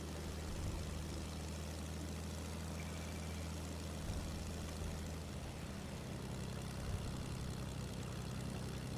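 An airplane in the Fortnite battle royale game drones with a steady low engine hum and propeller throb, faint and continuous throughout, with no talking.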